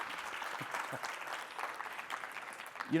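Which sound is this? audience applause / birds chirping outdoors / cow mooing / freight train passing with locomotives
audience applause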